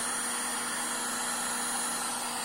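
A heat gun blows with a constant loud, steady whirring hum while shrinking heat shrink tube over a cable.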